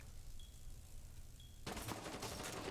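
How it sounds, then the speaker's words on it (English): Automatic gunfire sprays through a window during a Rainbow Six Siege pro league match, a sudden dense burst of rapid shots that starts partway through and continues loudly to the end. "He hears them spraying through the window."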